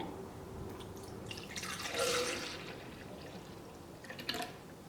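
Cold milk pours steadily into a blender jar, a soft continuous splashing that swells briefly in the middle, with no voices.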